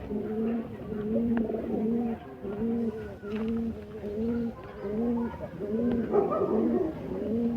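Kasuri and Rampuri pigeons coo close by in a repeating rhythm of low, throaty calls, one after another, with faint soft chirps in between.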